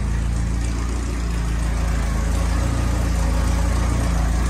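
A Mercedes 2.3-liter four-cylinder engine idles close by after a cold start, with an even, low rumbling hum that holds steady throughout, with no voices.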